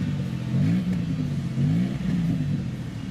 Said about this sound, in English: Listen to that V6 burn.